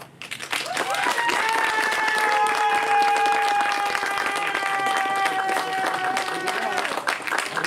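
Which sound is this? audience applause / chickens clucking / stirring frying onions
audience applause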